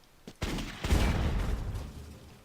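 Rifle fire in a video game bursts out as a quick rolling volley of shots, moderately loud and decaying over about two seconds, with no talk.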